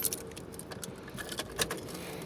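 Car keys jingle and clink in a few quick, close bursts inside a car as a tipsy driver searches for them, over a soft steady background.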